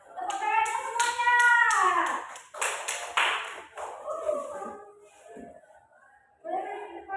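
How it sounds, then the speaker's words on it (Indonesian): A class of seventh-grade students at a madrasah claps in short sharp bursts, mixed with children's voices calling out loudly over and between the claps. "Ya, benar. Tepuk tangannya semuanya."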